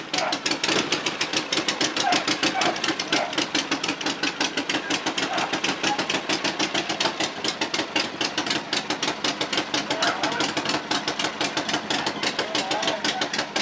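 A McIntosh Lightning 3 engine runs steadily nearby with a fast, even rhythmic chugging throughout, loud and continuous with no pauses.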